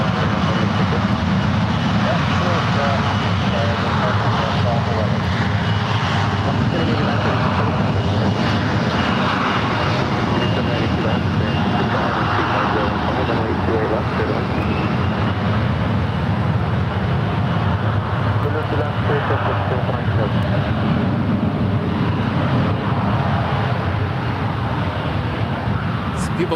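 Airliner taking off at San Francisco International Airport, a loud sustained engine roar with broad rumbling noise that stays steady across the whole stretch, heard from nearby with tower radio chatter mixed in.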